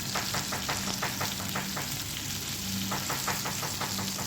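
Fish fries in a pan with onion and green chilli, a steady close sizzle running throughout with soft rhythmic scraping from stirring or turning.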